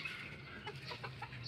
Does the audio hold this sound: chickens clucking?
yes